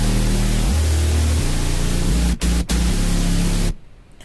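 A thick, buzzy bass line steps through short bouncy notes over a noisy distorted layer, with two brief dropouts before cutting off near the end.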